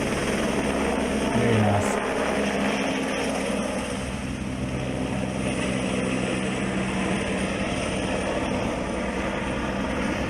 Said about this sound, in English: So super shot there of the heli.